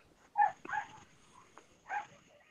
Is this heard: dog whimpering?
yes